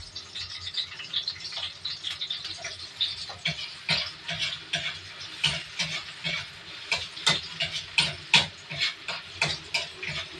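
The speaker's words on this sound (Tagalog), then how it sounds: "Gisa natin yung sibuyas, bawang, kamatis, tapos yung giniling." Onion, garlic, tomato and ground meat sautéing in a pan, a steady sizzle broken by repeated scraping and stirring strokes of a utensil against the metal, close and clear with no talking.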